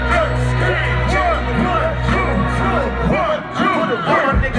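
A concert crowd at a rap show in the House of Blues, Anaheim, screams and shouts loudly and without a break over heavy bass music, with many overlapping voices.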